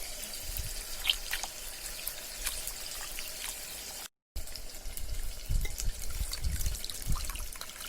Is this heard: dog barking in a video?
no